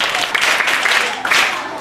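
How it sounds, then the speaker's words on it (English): Applause for a girl at a school gathering: a steady wash of many hands clapping together, close and fairly loud, swelling slightly near the end, with voices mixed into the crowd noise. "Clap for her, please."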